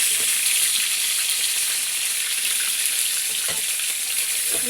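Food frying in hot oil in a pan gives off a steady, loud sizzle that never lets up, with a few soft scrapes as it is stirred and no talking.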